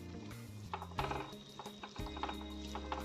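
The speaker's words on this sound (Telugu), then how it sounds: "చివరిలో ధనియాల పొడిని వేసి బాగా కలపండి." Cabbage fry is stirred with coriander powder in a pan, giving quiet scraping and clinking of the spoon against metal over a faint sizzle, with several strokes close by.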